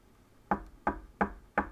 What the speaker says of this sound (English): Here I am knocking on the veneer